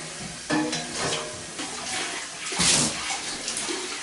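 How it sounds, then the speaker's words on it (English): Water rinsing soap suds out of a milking machine bucket, a steady splashing rush close up with slight surges, no voices. "I want to rinse out all the soap suds before I do the final acid milkstone rinse"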